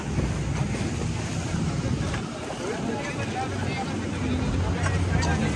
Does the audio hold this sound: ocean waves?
yes